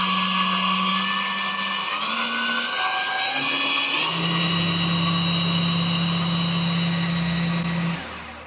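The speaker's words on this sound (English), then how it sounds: "you could tell obviously the motor was winding up as it increased speed" A Ridgid 18V cordless belt sander runs loud and close, its motor whine stepping upward in pitch as the speed dial is turned, then holding at max speed before trailing off.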